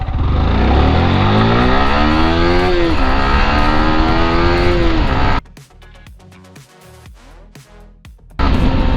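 A Yamaha R15M motorcycle accelerates hard from a standstill in a 0-60 speed test, its loud nearby engine climbing in pitch through several gear changes, then dropping away to quieter rattling before roaring again.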